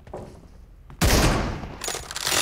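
Gunfire in a team shooting video game with M24 and M416 weapons: a quieter rattle, then a loud close burst of shots that decays, followed by more crackling fire.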